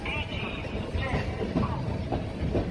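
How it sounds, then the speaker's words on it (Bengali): A train pulls out of Howrah station with a steady low rumble and soft rolling clatter throughout, heard under continuous narration. "হাওড়া থেকে ট্রেন ছেড়ে দিল।"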